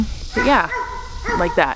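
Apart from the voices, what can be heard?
dogs barking in background at dog training facility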